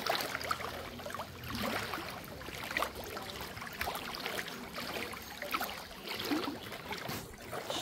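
Water babbling at a lake shore, a steady rushing, splashing wash that runs through the whole stretch with small surges, close by and fairly loud, with no talking.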